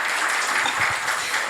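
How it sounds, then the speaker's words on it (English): Audience applause at a Caribbean artificial intelligence forum moot debate, a dense, steady wash of many hands clapping at once, loud and continuous for the whole moment. "Yes, round of applause."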